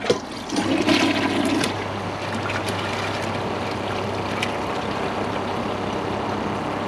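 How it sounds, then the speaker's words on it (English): A 2015 Kohler Cimarron Class 6 toilet flushes during a performance test with a microfiber towel and rag. A loud gush opens the flush, then a steady rushing of water refills the bowl for several seconds. "I'll give it a second flush."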